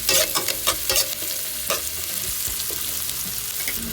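Bamboo shoots (labong) sautéing in a pan for Filipino adobo, with a steady close sizzle and repeated stirring scrapes, loudest in quick strokes early on, with no talking.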